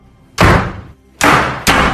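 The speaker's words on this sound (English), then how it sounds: "All of a sudden, the door started to shut." A door slams shut three times in quick succession, each a loud, sharp, close thud that rings out briefly before the next, with no voices over it.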